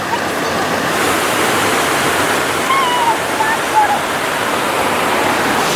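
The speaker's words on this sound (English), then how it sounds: "You can watch that water falling for ages." Waterfall on Siargao Island cascading steadily nearby, a loud, unbroken roar of falling water with faint bird chirps above it.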